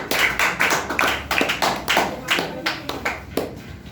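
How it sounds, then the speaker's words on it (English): An audience at a public speaking session claps for a speaker, a dense, lively round of applause with sharp overlapping hand claps and a few voices mixed in. "Well done, clap for Ankit."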